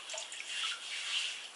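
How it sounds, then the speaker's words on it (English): Running water splashes steadily and fairly quietly as a freshly shaved head is rinsed, a soft continuous hiss with light trickling and no voices. "Just rinsing my head off."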